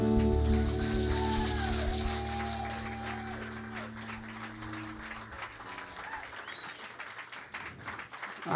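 A live audience at an intimate country-music concert cheers and applauds loudly right after a song ends, the clapping gradually thinning and fading over several seconds.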